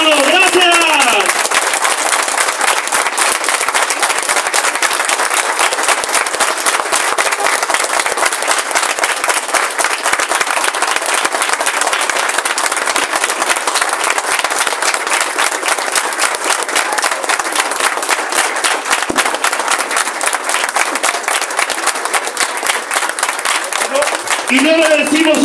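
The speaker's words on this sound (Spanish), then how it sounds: "un minuto de aplausos a Sexy Gloria" A tribute crowd breaks into sustained applause for the late Sexy Gloria, loud dense clapping that runs unbroken at a constant level for the whole stretch, with scattered cheers mixed into the wash.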